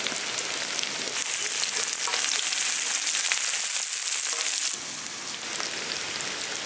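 Small onions sautéing in a pan give a dense, even, close hiss of frying that drops slightly in level partway through, with no talking.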